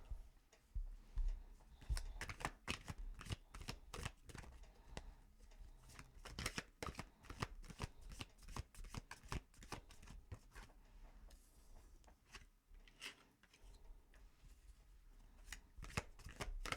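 Tarot cards are shuffled for a reading: a steady stream of crisp riffling and flicking clicks, close up and continuous, with no talking.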